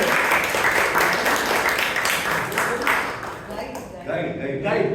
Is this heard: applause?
yes